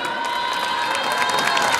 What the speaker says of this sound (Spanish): El aplauso para Macedonia.